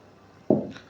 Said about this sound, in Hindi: इसमें 1 गिलास मैंने पानी डालना है, लेकिन ये जो दाल का पानी था ये मैंने अलग कर लिया था